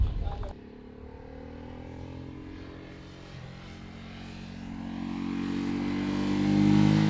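A 2017 Ducati SuperSport's 937cc engine pulls while riding, its buzzy tone rising steadily in pitch and loudness as the bike accelerates after a brief sharp noise at the start.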